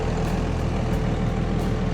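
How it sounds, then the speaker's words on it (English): A Ram truck's 12-valve Cummins diesel engine climbing at low speed in crawler gear, a close, steady low rumble with a loping throb and no voices. "we're gonna see if Case can tackle it in his mighty 12-valve Cummins"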